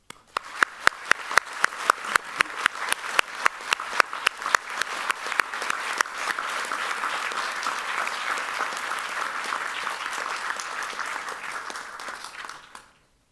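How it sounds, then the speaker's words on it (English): A room full of people at a graduation ceremony in Carmarthen applauds, starting with a few sharp claps that quickly swell into sustained, even clapping before fading out. "join me in expressing your sincere gratitude to them with a big round of applause."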